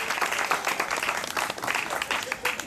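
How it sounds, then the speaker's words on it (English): Audience at an art exhibition clapping together, a steady dense patter of many hands held close and loud throughout, with a murmur of voices mixed underneath. "raise your glasses or give a clap to Laura's parents"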